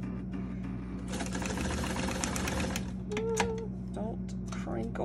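Home sewing machine run by foot pedal, a close, fast mechanical chatter for about two seconds, then quieter stitching while a voice speaks and a voice is heard.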